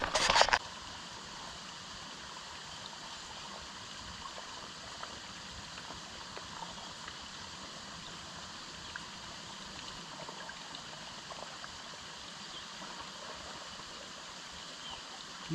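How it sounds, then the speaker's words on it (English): Several small springs trickle out of the rocks at a backcountry campsite in the Great Smoky Mountains, making a soft, steady, continuous rush of flowing water heard from close by, with a brief louder rustle at the very start. "there's a lot of little springs coming out of the rocks here"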